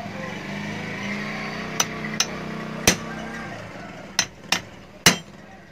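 A hammer knocks a seal out of a water pump in a series of sharp metallic strikes, six distinct hits spaced irregularly over a low background hum, close and loud with no voices.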